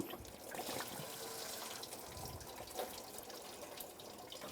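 Coolant drains from a disconnected hose on a 2004-2010 BMW X3 during A/C condenser work, a soft continuous trickle and dribble of liquid heard close with no talk.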